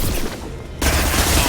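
Gunfire in the Mass Effect video game during a fight with a heavy mech, as a dense volley of shots that thickens and grows louder halfway through, loud and continuous.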